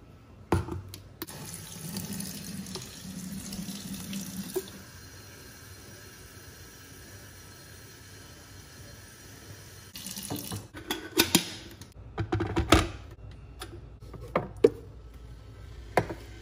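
A kitchen tap runs while water is drawn for tea, a steady wash for the first few seconds, then a quieter stretch before clattering bursts of handling and running water return near the end.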